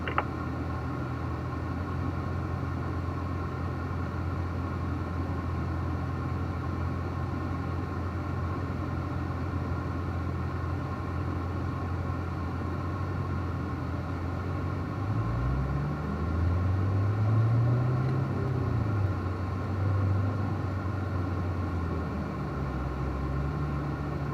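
Race car running training laps at Ron Fellows Springhill, a steady loud engine drone filling the whole stretch, with a brief rising engine sweep partway through as the car accelerates.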